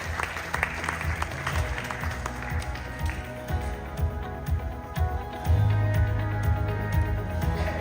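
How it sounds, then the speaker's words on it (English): A conference audience at a leadership and women's professional awards event applauds a speaker being invited to the stage, dense steady clapping filling the hall with a low hum and some background murmur underneath. "Let us give her a big round of applause as I invite Ms. Iris Irumwa to the stage."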